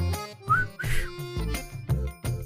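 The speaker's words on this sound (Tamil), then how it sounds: "என்ன ஏதோ விசில் அடிக்கிற சத்தம் இருக்கு." Someone whistles a short melodic tune in brief bursts at a house entrance in a Tamil TV drama, loud and close, mixed with other domestic sounds.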